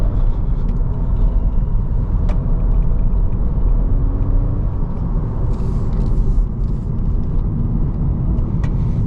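A 2023 Acura Integra A-Spec takes corners on the winding Mt. Hamilton Road, with a steady engine drone and road rumble heard from inside the cabin and no talking.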